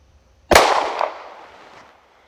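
A single sharp gunshot from a Mossberg MC2sc pistol at an outdoor range, a loud close crack followed by a decaying echo that fades over about a second.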